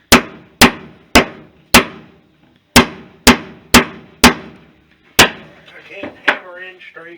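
A hammer strikes repeatedly while wooden floorboards are laid in a kitchen restoration. About nine loud, close blows come in a steady rhythm, with a brief pause, then voices talk at the end.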